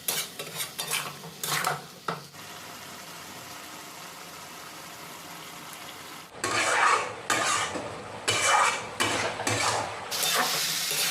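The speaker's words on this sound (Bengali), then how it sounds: "আর সবজিটা 5-6 মিনিট ভালোভাবে কষে নিতে হবে।" Guar (cluster bean) sabzi sautéing and being stirred in a pan: soft sizzling under bursts of spoon scraping and clattering against the pan, which pause for a few seconds and then pick up again more loudly.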